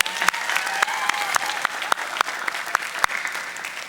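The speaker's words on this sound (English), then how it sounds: "Another round of applause for Will Bailey." A crowd applauds at Harvard Class Day 2008, with dense sustained clapping and sharp individual claps popping out near the listener.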